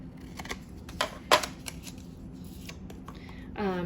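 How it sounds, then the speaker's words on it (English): Scissors snip the top edge off a paper envelope during junk journal crafting, a few short crisp cuts and paper rustles up close, with quiet pauses between. "just need to trim this little top here"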